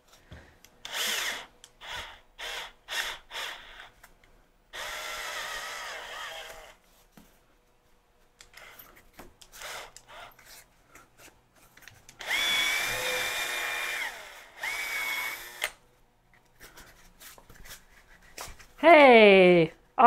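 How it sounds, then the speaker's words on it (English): Short bursts of power drilling start and stop several times, with a higher whining spin near the end and pauses of quiet between. "so I'm just gonna use a normal drill bit"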